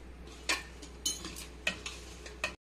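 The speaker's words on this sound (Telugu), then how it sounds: "చేతితోని కలుపుకుందాము" Spiced potato mixture with turmeric and salt being mixed by hand for aloo bullets, soft squelchy kneading with several sharp taps and scrapes against the bowl, close and fairly quiet.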